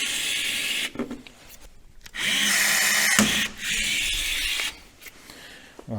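A power rivet tool pulls rivets on a full-body skid plate for a 2023 Ski-Doo Expedition SWT snowmobile: two loud sustained whirring bursts with a sharp crack between them, close by, no talking.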